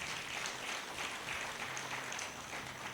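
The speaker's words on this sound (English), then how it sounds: "I thought I would hear some round of applause." An audience at a Women in Tech leadership summit in Ikorodu gives a steady round of applause, a dense, even patter of many hands clapping throughout, moderately loud and unbroken.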